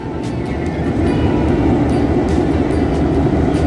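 A 1951 EMD diesel locomotive, United States Army number 1829, pulls a scenic train at a Tennessee railroad museum. A loud, steady rumble of engine and wheels on rail carries through, with faint metallic clicks above it.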